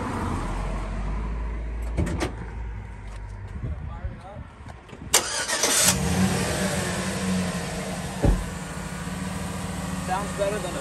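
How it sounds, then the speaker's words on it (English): A 2008 Chevy Silverado single-cab V8 cranks and fires up midway, settling into a loud, rumbling idle with a brief rev, heard close by with some background noise and handling sounds beforehand. "We're gonna show you guys the engine bay and do a quick startup."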